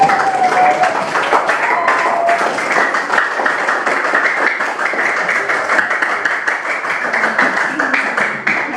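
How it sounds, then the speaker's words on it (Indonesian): Students in a classroom clapping for all the groups, a loud, steady stretch of mixed clapping from many hands, with a brief voice early on. "Tepuk tangan buat semua kelompok tadi."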